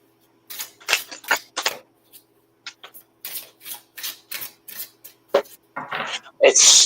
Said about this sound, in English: Shuffle up a little bit.